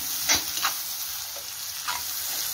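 A kothu chapathi mixture being sautéed in a pan gives a soft, steady sizzle with a few scraping stirs of a spatula, fairly quiet and close, with no voices.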